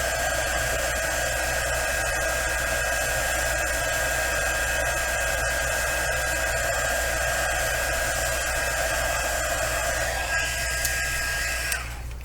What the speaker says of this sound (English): Heat it up. And then melt your embossing powder.